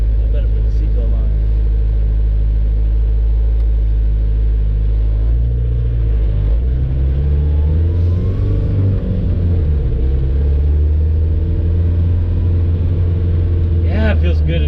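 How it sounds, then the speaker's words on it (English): A turbocharged Suzuki Samurai engine drones in a steady, loud low rumble while driving, swelling with a rising pitch partway through as the engine revs up, with the cabin noise continuous throughout. "I love the sound of that turbo."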